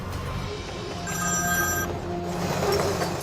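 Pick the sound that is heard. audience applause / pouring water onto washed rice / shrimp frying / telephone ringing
telephone ringing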